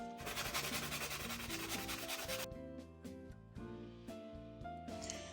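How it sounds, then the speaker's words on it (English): Steady, gritty sanding rasps close by for a couple of seconds as a glitter resin pen is sanded, over quiet background music, which then continues on its own. "I'm gonna go ahead and sand this down"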